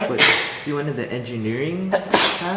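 A sneeze bursts out sharply near the start of a conversation, with a second similar burst just before the end, while people keep talking between them.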